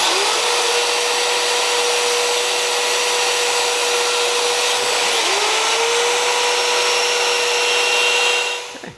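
A small Milwaukee bandsaw on a stand cuts out metal ring blank parts with a loud, continuous whirring whine and a steady pitched hum, a brief dip midway, then winding down at the end.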